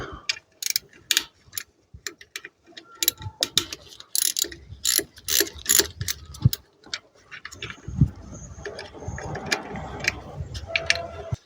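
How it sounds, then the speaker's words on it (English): A Torx tool loosening the ignition coil bolts on an Opel Corsa 1.4i engine, irregular close ratcheting clicks and metallic rattles in a workshop. "We can use a Torx here just to loosen those up"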